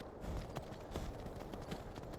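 Galloping horse hooves in the video game Skyrim, a steady rapid clip-clop drumming on and on at close range with no voices.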